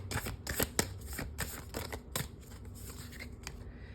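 Tarot cards are shuffled and pulled from the deck, a run of quick crisp riffling snaps and soft slides, close and clear, with no talking.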